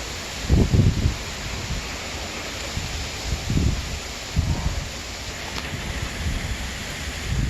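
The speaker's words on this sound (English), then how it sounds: "It's windy." Wind gusts blow outdoors during a tornado-warned storm in San Antonio, a steady roar broken by several louder buffeting gusts, fairly loud and close, with no one talking.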